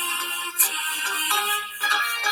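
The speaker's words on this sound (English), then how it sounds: "getting a phone call" A phone rings with an incoming call, playing a steady melodic ringtone of bright repeating tones that fills the whole stretch without any talk over it.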